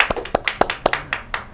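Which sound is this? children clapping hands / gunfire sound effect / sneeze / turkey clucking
children clapping hands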